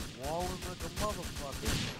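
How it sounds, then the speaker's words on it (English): Rapid gunfire in a clan-battle shooter video game, with shots rattling out in a steady run throughout while someone talks over it. "He's trying to shoot at me."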